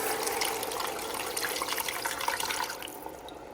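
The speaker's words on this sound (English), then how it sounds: "Then add a liter of water." Water runs and splashes steadily into a pot of seared beef, a continuous bright pouring sound that holds for a few seconds before easing slightly.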